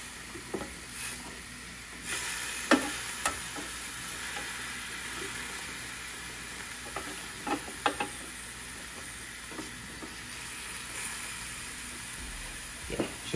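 Filet mignon and pork chops searing on a Ninja Foodi Grill, giving a continuous loud hissing sizzle broken by scattered pops and crackles, with no talking.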